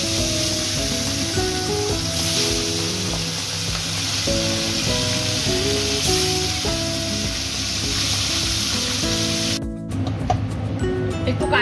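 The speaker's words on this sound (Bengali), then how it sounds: "আমি সবগুলো একইভাবে এরকম ভাবে লাল করে কড়া করে ভেজে নেব।" Bhola fish frying hard in hot oil gives a steady, dense sizzle with crackling spatter throughout, close and loud, briefly thinning near the end before resuming; some quiet background speech-like sound mixes in.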